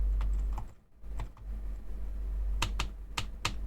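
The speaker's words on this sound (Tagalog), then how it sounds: "naririnig nyo, yan na yun, todong pindot ng keyboard na yan." Someone types on an Onikuma G80 keyboard. Crisp, close key clicks come in uneven bursts with brief pauses, ending in a few sharp, louder presses, with no talking.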